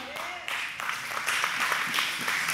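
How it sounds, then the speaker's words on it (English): A church congregation breaks into applause during a sermon, steady clapping from many hands building slightly and continuing throughout at moderate volume. "You can clap."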